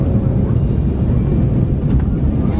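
A passenger airplane touches down on a runway, heard from inside the cabin as a steady, loud low engine and rolling roar with a slight bump of the wheels meeting the ground.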